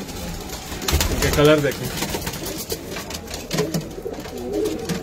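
Rooftop pigeons of pure bloodlines cooing in low, throaty bursts, close and fairly loud, mixed with someone talking over them.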